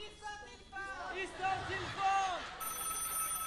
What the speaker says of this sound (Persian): تلفن